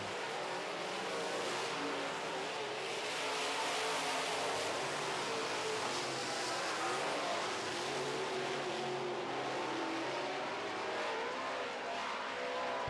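Modified race cars roaring around an oval track during a heat race, a dense continuous wash of engine noise, loud and steady, with no voices on top.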